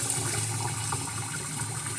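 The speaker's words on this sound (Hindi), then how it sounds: "जब नल में कंटिन्यूस पानी आता है तो कितना अच्छा लगता है ना।" Tap water pours continuously into a kitchen sink during rice washing, a steady hissing splash with no break, close and even in level.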